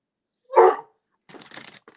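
A small dog gives one sharp, close bark, followed after a pause by a quieter burst of yippy, scuffling barks and whines.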